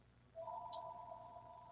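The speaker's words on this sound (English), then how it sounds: "I forgot to turn my phone ringer off." A phone ringer sounds with a steady two-tone electronic ring that starts abruptly and holds for over a second. It is soft and somewhat distant against a low background hum, with no voices.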